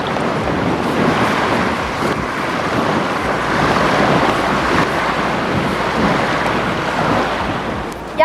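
Wind blowing steadily across a lake toward the shore at a carp fishing spot, a broad continuous rush of gusting air and lapping water, loud and close with buffeting against the microphone, no speech.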